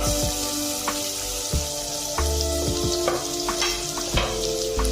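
Chopped onion sautéing in oil with curry leaves, cumin and asafoetida for a Maharashtrian mixed vegetable bhaji, a steady close sizzle with scattered sharp clicks and scrapes of a spoon stirring through the pan.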